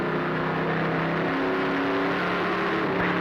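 Race car engine droning steadily as it is driven around a track, a loud, continuous close-up hum and whir from inside or near the car, with no talking during the clip.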